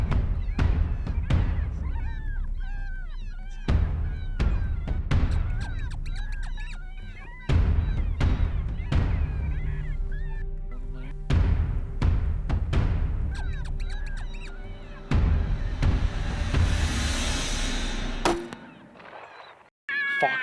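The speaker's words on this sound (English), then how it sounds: "Just using fox fade on the TX500, making that sound like it's coming away, going away" Gray fox distress call played from a Foxpro TX500 electronic caller with a fading effect: repeated sharp, yowling cries in bursts over about twenty seconds, moderately loud, growing fainter toward the end.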